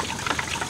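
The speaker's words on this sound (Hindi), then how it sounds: "और डालना पानी? हाँ डालो," Water poured into a cooking pot during Ramadan iftar preparation, a short close splashing pour with uneven gurgles, fairly loud and brief, no speech over it.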